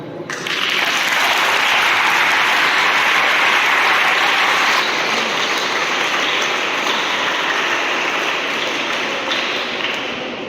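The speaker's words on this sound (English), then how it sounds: "So first of all, claps for them." Applause for school teams at a student-led mock parliament session, a broad, sustained patter of many hands, loud and steady for about ten seconds, like rain on a roof.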